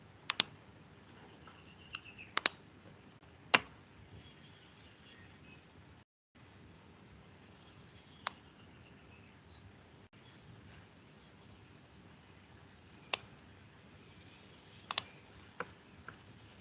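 A computer mouse clicks sparsely while setting up a .NET 5.0 project: isolated sharp single and double clicks, close and crisp, separated by long stretches of quiet room hiss.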